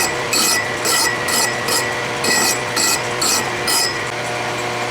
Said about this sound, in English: While I still have it set up in the lathe using a file, I want to clean it up